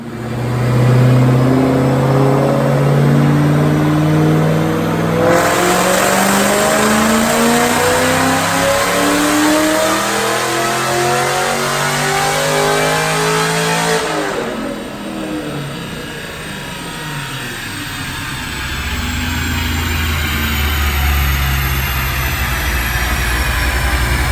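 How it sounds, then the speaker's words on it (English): A supercharged V8 in a 2010 Roush 427R with Detroit rocker cams and Kooks exhaust roars loud and close on a dyno, climbing steadily in pitch through a long sustained rev, then drops back and settles into a rumbling idle. "Now let's make a dyno pull."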